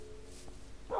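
Dog barking in a modded Minecraft game, a quiet game-audio yip that pops up briefly near the end over a soft background.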